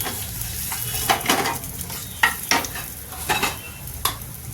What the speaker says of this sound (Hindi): और इसमें हरा मिर्चा हम डाल देते हैं, ऐसे ही डाल देंगे तोड़ के।